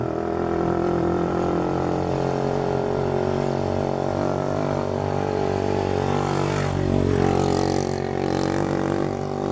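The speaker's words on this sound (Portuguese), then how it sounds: "Espera a moto passar." A motorcycle passes on a road, its engine drone building over several seconds and peaking loudly around the seventh second before easing away, set against a dense, continuous mechanical rumble with no talking.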